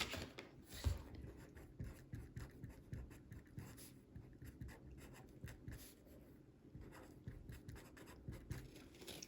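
Pen or marker writing out a math equation, a soft close scratching of strokes that runs steadily throughout with brief pauses, quiet and without talk.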